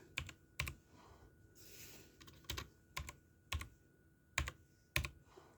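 Keystrokes on a computer keyboard, typed in short separate bursts of two or three taps with pauses between, close and clear with no talking.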